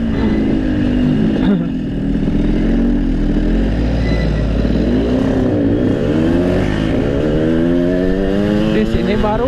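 A Yamaha RX King two-stroke motorcycle revving hard on a ride, its rasping engine note rising and falling through throttle bursts and gear changes, with a rider talking over it.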